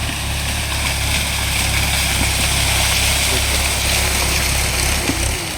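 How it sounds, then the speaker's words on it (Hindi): A tractor crossing a farm field and breaking up the soil, its engine droning steadily and close throughout, with rough broadband rumble and no clear talk over it. "ये देखिए ट्रैक्टर इस तरह से तोड़ते हुए जा रहा है।"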